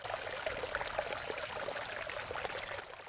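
Gentle trickling water from a garden water feature babbles steadily, with small splashes and bubbling close by, quiet and continuous with no talking.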